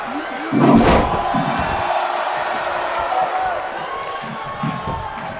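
Wrestling crowd cheering at a live match, a steady roar of many voices with a loud surge and a slam near the start, then sustained noisy crowd din throughout.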